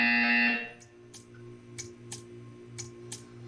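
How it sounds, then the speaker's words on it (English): A harsh electronic buzzer from the video game Portal 2 blares for about half a second, then cuts off, followed by a few soft, evenly spaced ticks against a low hum. "You will hear a buzzer."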